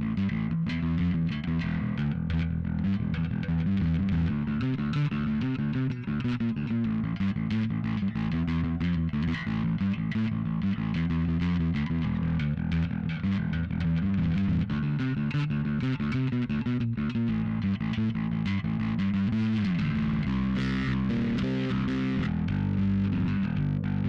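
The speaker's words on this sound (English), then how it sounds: "For the distortion sound, I'm using a dark glass distortion pedal." A Markbass GV Gloxy bass guitar plays through a Darkglass distortion pedal, a gritty, saturated groove that runs continuously at steady loudness with no talking.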